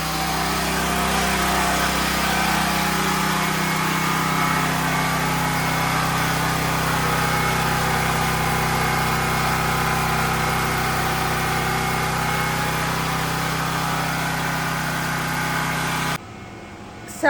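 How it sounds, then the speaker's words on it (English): A Westinghouse portable generator drones loudly and steadily outdoors with a constant engine hum that holds unchanged before cutting off near the end. "this generator is very loud"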